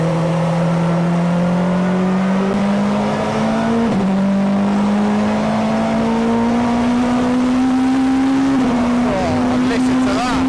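A 1996 Honda Accord Super Touring race car engine, heard onboard, screams loud and continuous, pitch climbing steadily through the revs with brief dips at gear changes.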